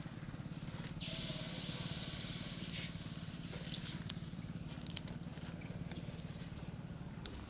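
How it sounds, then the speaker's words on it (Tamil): A soft granular hiss of sugar pouring steadily into a basin of water for syrup, rising briefly mid-clip, with a low steady hum underneath and a few faint clicks. "இப்போ ஒரு பேசன் அளவு சர்க்கரை சேர்த்துக்கிறோம்"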